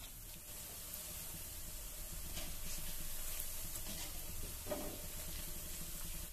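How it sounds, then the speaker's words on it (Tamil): Sliced nendran bananas deep-fry in hot oil and are stirred now and then, giving a steady, close sizzling hiss with soft scraping stirs. "சக்கரை வரட்டிக்கு பழத்தை நல்லா பொரிச்சாச்சுங்க."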